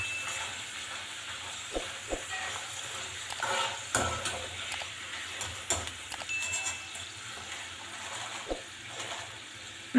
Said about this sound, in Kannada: ಸ್ವಲ್ಪ ಗೋಲ್ಡನ್ ಬ್ರೌನ್ ಬರೋವರೆಗೂ ಫ್ರೈ ಮಾಡಬೇಕು ರೀ